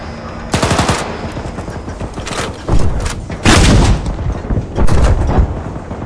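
Automatic gunfire in the military video game Altis Antistasi comes in several loud, close bursts of rapid shots, separated by short pauses and followed by booming reports.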